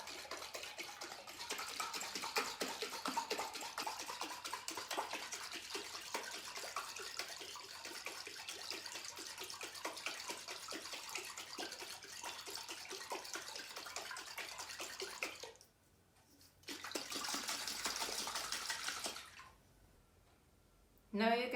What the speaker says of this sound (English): So I will close the jar and separate the fibers by shaking.